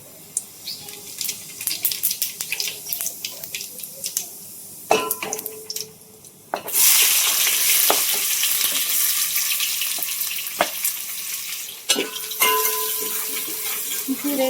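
Cumin and onion hitting hot oil in a home kitchen, a few clinks and scrapes followed by a sudden loud, sustained sizzle with stirring.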